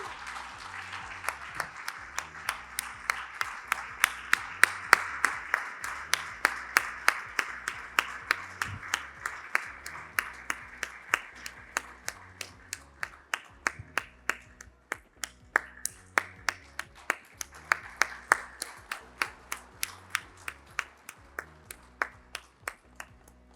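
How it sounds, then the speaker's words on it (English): Sustained applause from a lecture audience at an award oration, many hands clapping steadily and densely for over twenty seconds, loud and close, gradually thinning toward the end, with no talk over it. "Do we continue clapping,"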